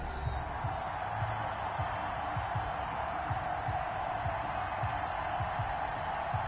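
Stadium crowd noise from an American football video game before a Seattle Seahawks versus Buffalo Bills matchup, a steady, dense roar with scattered cheering that holds at an even level throughout.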